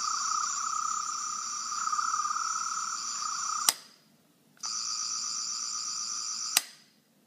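A Third Doctor sonic screwdriver toy from Doctor Who gives off a steady electronic whine with bright tonal bands. It plays twice, each run ending in a sharp spring-loaded click, with a short silent gap between them.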